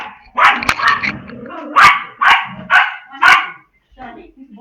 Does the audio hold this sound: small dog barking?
yes